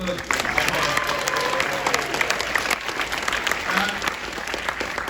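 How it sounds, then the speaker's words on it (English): A cinema audience at a horror triple-feature screening bursts into steady, dense applause, a close and sustained wash of clapping with a few voices and cheers mixed in. "So a round of applause for them"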